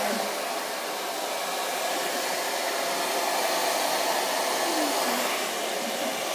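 A handheld hair dryer blows steadily while drying hair, a constant close airflow roar with no breaks and no talking.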